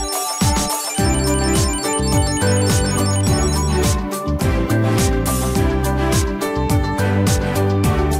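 A Chipolo key tracker plays a loud, repeating electronic melody that sounds like a ringtone, with busy rhythmic tones running throughout.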